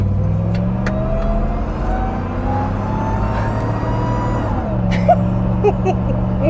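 A Shelby Durango accelerates hard with a rising supercharger whine over the steady engine drone, then the revs drop and settle as it shifts.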